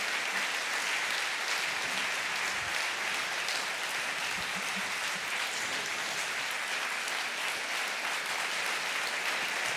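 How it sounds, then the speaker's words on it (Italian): A seated audience at a talk on food history in Pollenzo breaks into steady, sustained applause, a dense wash of many hands clapping without pause, fairly distant and even throughout. "se lo prenda tutto l'applauso, professore"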